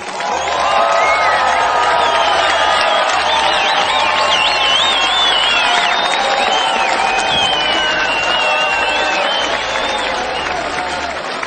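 A large crowd applauds and cheers steadily, with whistles and whoops rising over continuous clapping throughout.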